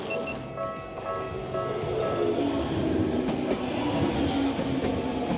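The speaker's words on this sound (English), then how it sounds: "I just heard the train noise" A passing train rolls by with steady rumbling and rhythmic clatter of the wheels on the rails, growing slightly louder midway and staying continuous throughout, with no talking.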